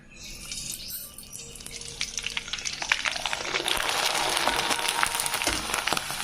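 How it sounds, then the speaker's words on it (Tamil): A large homemade rice appalam drops into hot oil on a stove, and a rising, crackling sizzle builds and holds steady, close and with no talk. "ஸ்டவ்வில் எண்ணெய் ஊற்றி வச்சுக்கிறேன் எண்ணெய் காஞ்சிச்சு நம்ம பா போட்டு பார்க்கலாம்"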